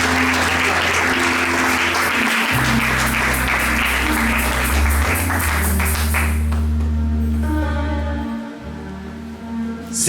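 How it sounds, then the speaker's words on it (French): A church congregation applauds to acclaim the Lord, a loud, sustained wash of clapping over sustained music that fades briefly before swelling again at the end. "Acclame le Seigneur de grâce."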